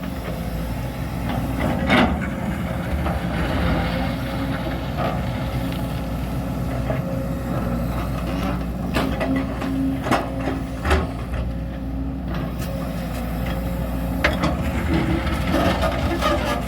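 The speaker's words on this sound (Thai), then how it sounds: "เสียงขูดหินลูกรังนะครับ" Continuous grinding and scraping as a Sumitomo SH210 excavator bucket drags over laterite gravel, with occasional sharp knocks and clatters over a steady low engine rumble.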